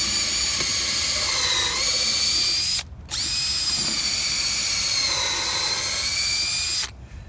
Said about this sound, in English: So now we are ready to install the bottom screw for the support